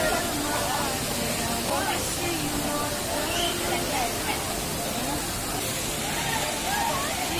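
Gundala waterfall near Tirupati pours in a dense, unbroken roar of rushing water, loud and steady, with faint voices now and then beneath it.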